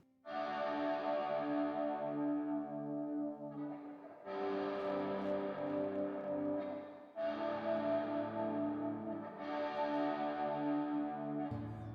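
Sustained ambient electric guitar chords swell and ring out with washy echo and shimmer, several long phrases in a row, loud and alone.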